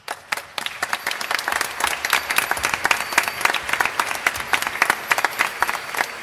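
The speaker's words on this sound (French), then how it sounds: "Si vous y croyez, applaudissez." An audience bursts into lively, sustained applause, dense and fairly close, with many hands clapping at once and no talking over it.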